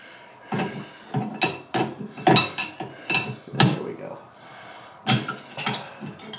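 Metal tools and collets clink and rattle while a bit is swapped on a CNC router in a woodworking shop, a run of sharp, close knocks and scrapes at irregular intervals with no talk.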